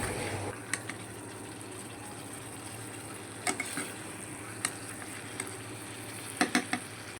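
Naga chicken wings frying gently over a low flame, a soft continuous sizzle and bubbling with scattered sharp pops and crackles, no talking.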